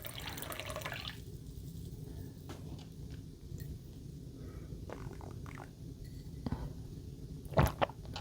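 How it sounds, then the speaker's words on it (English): A drink being poured into a glass at home, heard as a soft, steady liquid trickle close by for most of the clip, ending with a brief clink or splash near the end. "So I am just pouring myself a glass."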